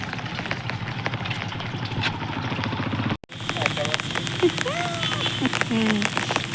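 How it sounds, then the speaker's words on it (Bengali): Rain falls steadily at Maharaja Bir Bikram Airport in Agartala, a continuous close hiss with a brief dropout partway through, joined by faint engine noise and a few chirping sounds. "আবার বৃষ্টি নামছে,"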